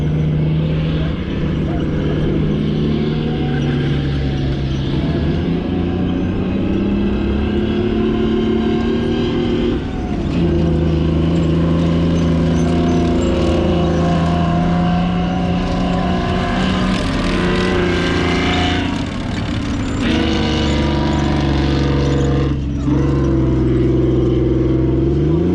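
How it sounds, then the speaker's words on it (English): Heavy Chieftain tank engines roar and rev continuously as the tanks speed past, their pitch rising and falling with each pass, loud and close throughout. "enjoy the Chieftains as they go speeding around, enjoying that lovely engine noise and the smell"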